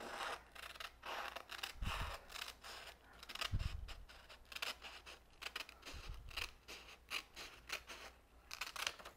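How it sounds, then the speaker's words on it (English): Scissors snip through paper in a series of close, crisp cuts, each a short rasping slice with quiet pauses between, while an alligator shape is cut out. "scissors can stay next to your body and not move"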